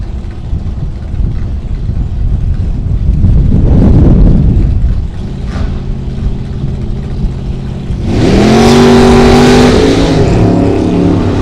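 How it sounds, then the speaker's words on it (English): At a drag strip, two Camaro race cars, a topless and a coupe, roar off the line with loud rising engine revs, then a second burst of high-pitched acceleration rips past close by. "Two Camaros are battling it out down to the stripe."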